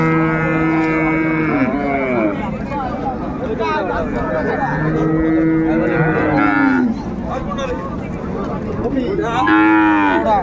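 At a village cattle market with cows and calves for sale, a cow gives several long, loud moos in bursts, while people talk and chatter in the background.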